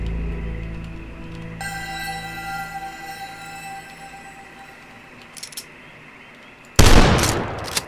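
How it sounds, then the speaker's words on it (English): Super shotgun in the video game Dusk, a loud burst of blast at the end following a stretch of humming ambience and a few faint clicks. "I'm going in with the super shotgun"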